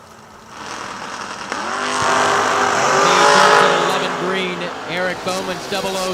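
Drag racing cars, including a third-generation Camaro, run at Kil-Kare during a $100K event. Loud engines rev and rise in pitch, sweeping up and down through several surges as they launch and pull away down the track.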